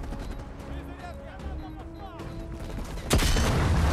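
Grenade blast and gunfire in the Black Ops Cold War video game campaign: steady background shooting and music, then a loud, sudden explosion near the end that stays intense to the close.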